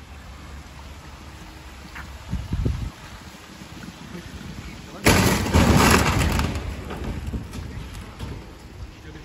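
Runaway truck trailer crashing at a shopping centre in Sweden: a short thud first, then a sudden loud smash with glass shattering and debris rattling as it fades, with shouting voices around it.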